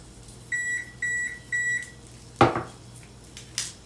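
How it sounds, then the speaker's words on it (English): A kitchen oven signals it has finished preheating with three clear, evenly spaced electronic beeps, followed by a sharp clatter of a pan or door and a fainter knock, close by with no speech. "That is my oven preheated."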